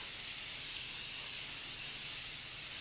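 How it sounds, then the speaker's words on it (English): Makeup setting spray is misted onto a face in one long, steady, close hiss with no talking over it. "I spray this until my face is wet because it's going to melt everything into my skin"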